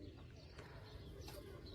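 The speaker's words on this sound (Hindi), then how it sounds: "ये है कबूतर जो कि पकड़ा था बाइट से" A rescued pigeon gives soft, low, rolling coos, close but faint, in a brief stretch against a quiet background.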